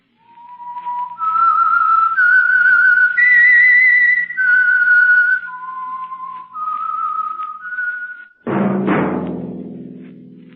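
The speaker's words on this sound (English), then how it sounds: "That whistle is your signal." A clear whistled signal melody from the 1945 radio drama The Whistler, sustained tones stepping up and down, close and loud, ending in a sudden orchestral burst.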